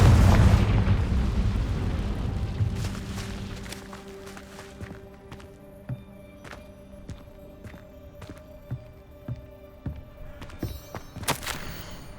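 In Hogwarts Legacy, a Confringo blasting spell bursts with a loud explosive boom that rolls away over several seconds, followed by scattered footsteps, thuds and small impacts.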